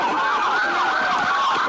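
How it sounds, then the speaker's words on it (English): Police car sirens wail loudly and continuously during a car chase after a shoplifting suspect, the rising and falling tone close by over road noise. "More sirens."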